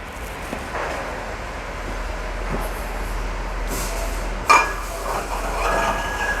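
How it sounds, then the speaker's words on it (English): A metal pipe handle slides into a captain's wheel in a pipe welding bay, giving one sharp, close metallic clank with a short ring over a low steady hum. "So this is what we call a captain's wheel, and that pipe there slides into here."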